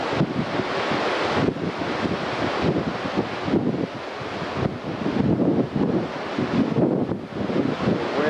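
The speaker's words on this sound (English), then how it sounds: "The wind is very bad, as you can hear." Strong wind buffets the microphone on the deck of a cruise ship sailing toward Acapulco, a loud continuous rushing roar with faint sea wash beneath it and no speech.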